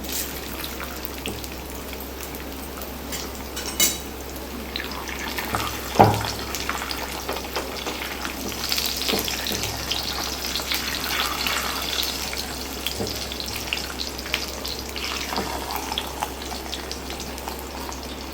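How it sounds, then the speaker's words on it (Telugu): Chapati roasting in oil on a hot pan gives a soft, continuous frying sizzle with faint scrapes and one brief clatter, heard close and alone over a low steady hum. "ఇలా మనము రెండు పక్కల మంచిగా ఇట్లా కాల్చుకోవాలి."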